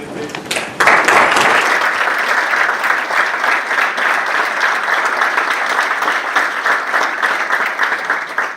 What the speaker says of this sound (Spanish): nos ponemos de pie y le damos un gran aplauso a Carlos